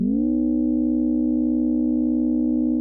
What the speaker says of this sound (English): So we can have 3 sine waves with whole number frequency ratios, each driving the points x, y, and z coordinates